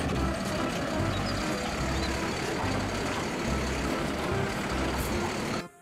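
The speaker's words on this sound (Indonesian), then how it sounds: "Wow, ini ada truk pengangkut sampah." A toy garbage truck plays a continuous, fairly loud electronic engine rumble with a steady pulsing low pattern, running for several seconds before cutting off abruptly at the end.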